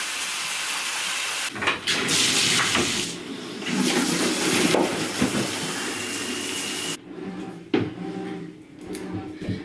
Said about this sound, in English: I'm going to get in the shower and get myself all prepped for the day.